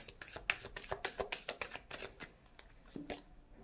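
A deck of cards is shuffled close up in a quiet room, with a quick run of soft riffling flutters and taps that fades toward the end.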